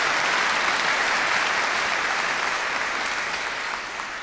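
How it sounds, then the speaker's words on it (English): Graduation ceremony audience giving a big round of applause, dense, even clapping from a large hall crowd that holds steady and then eases off near the end. "give a big round of applause for their great achievements"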